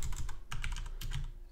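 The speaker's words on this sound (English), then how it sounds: "Oh my god, I'm not typing correctly." Fingers tap quickly on a computer keyboard in a short, irregular run of close, crisp keystrokes, with no voice over them.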